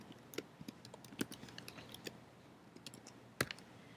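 Quiet, irregular keystrokes on a computer keyboard, a scattered run of light clicks with a few sharper taps, close and isolated in an otherwise still room.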